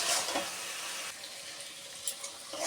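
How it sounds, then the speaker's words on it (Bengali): Mutton with bay leaves sizzles in oil as it is stirred and sautéed in a pan, giving a close, continuous bright frying hiss with a few small spatters and no talk. "এবার আমি কষাতে থাকবো সেটাকে।"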